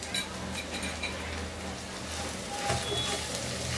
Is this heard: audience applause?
no